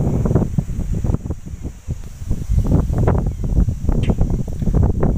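Strong gusty wind during Cyclone Biparjoy in Kutch, roaring in rough, fluctuating surges across the microphone, with trees thrashing and leaves rustling throughout.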